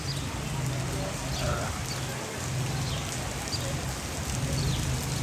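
Heavy rain pours steadily in a flood-hit area, a dense, loud, even hiss that fills the whole stretch without pause, with faint voices blended into the background.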